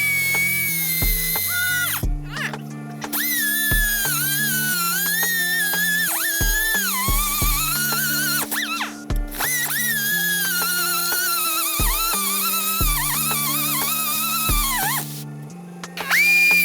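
A power tool whines and squeals loudly while cutting a seized shackle bolt on new leaf springs of a 1986 Ford F-150, a steady high rising pitch broken by short pauses and low stuttering chatter, close up and alone.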